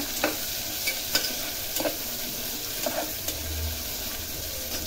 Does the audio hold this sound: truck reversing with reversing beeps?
no